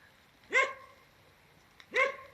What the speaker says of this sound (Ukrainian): Щось Барні вже бачить або побачив те котеня, там вже гавкає.